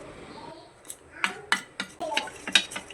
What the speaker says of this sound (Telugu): అసలు ఉండలు లేకుండా పిండి పిండిగా లేకుండా అయితే బాగా మిక్స్ చేసేసుకోవాలి